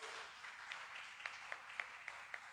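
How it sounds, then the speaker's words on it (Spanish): A church congregation applauding, a steady wash of many hands clapping at a moderate distance, with a few sharper individual claps standing out throughout. "Denle un buen aplauso al Señor, mi hermano."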